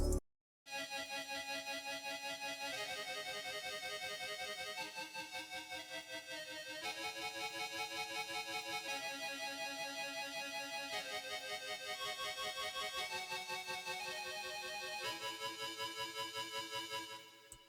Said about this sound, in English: it's the kaleidoscope synth key